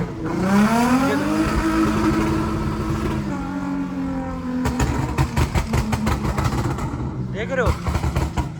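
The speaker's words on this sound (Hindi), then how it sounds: "ये गाड़ी जो है ना बहुत टेढ़ी मेढ़ी चल रही है" A car moves with its engine humming and changing pitch, then a rapid rattling, clattering stretch as it swerves unsteadily. Someone talks over it for most of the time.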